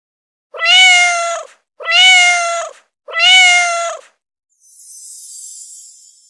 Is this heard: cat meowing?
yes